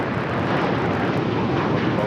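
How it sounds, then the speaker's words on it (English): A United Airlines Boeing 787-9 Dreamliner taking off from LAX for Tokyo Narita makes a brief, continuous broadband engine roar at moderate distance. "This is United Airlines Flight 32 taking off to Tokyo Narita on the 787-9 Dreamliner."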